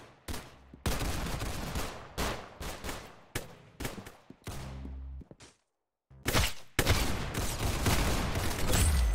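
Bursts of gunfire from the video game Arsenal, a rapid series of loud, punchy shots in quick clusters with a brief silent gap before a final sustained volley.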